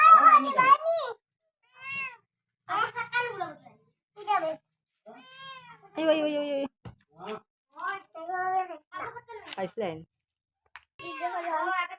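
A cat in a village home in Assam meows repeatedly in short, rising and falling cries separated by pauses, with a voice talking at times.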